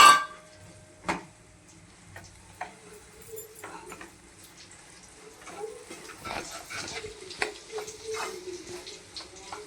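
Ragi flour is stirred into boiling water in a pot with faint, irregular scraping and ticking strokes over a low bubbling hiss, after a couple of louder knocks at the start.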